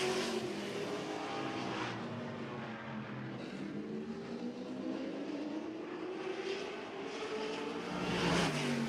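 Race cars on the final lap of a season-opening race at Jefferson, their engines droning steadily from a distance with a broad roar that rises and falls as they pass, no talk.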